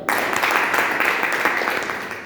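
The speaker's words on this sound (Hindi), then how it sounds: "एक जोरदार ताली।" Loud, sustained audience applause with dense clapping at a motivational training meeting, steady throughout without speech over it.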